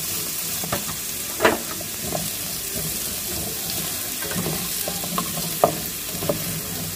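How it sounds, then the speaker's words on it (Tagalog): Chayote sautéing in a pan hisses quietly and evenly, broken by occasional utensil taps and scrapes as it is stirred. "Igisa natin 2 to 3 minutes lang."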